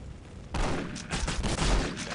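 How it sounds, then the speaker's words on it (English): Machine gun and shotgun fire in Postal 2, a loud sudden burst of rapid shots kicking in after a quiet half second and continuing in uneven bursts, with no talking over it. "Machine gun and shotty."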